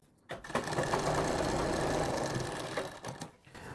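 A sewing machine runs a continuous loose basting stitch along a round kurti collar, a close, steady mechanical whir lasting about three seconds after a short pause, then slowing and stopping near the end.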